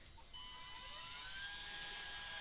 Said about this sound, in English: And the spindle spools up.